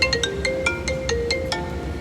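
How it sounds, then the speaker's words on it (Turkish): A mobile phone ringtone plays a quick series of bright, evenly spaced electronic beeps, loud and close, with nothing else over it. "Telefonun çalıyor."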